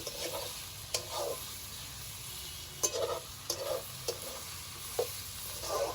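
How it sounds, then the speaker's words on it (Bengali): A boiled cabbage mixture frying in a pan for a Bengali katla fish head ghonto: low quiet sizzling with several distinct spatula scrapes spaced a second or so apart, close by and with no talk. "সম্পূর্ণ মিশ্রণটাকে মিশিয়ে দেব আমরা।"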